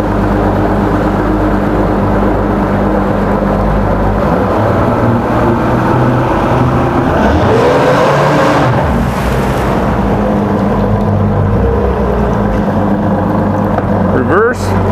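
A 2013 Evinrude E-TEC 200 HP outboard motor runs in a test tank indoors, a loud steady engine drone with a surge in pitch midway as it is shifted into gear.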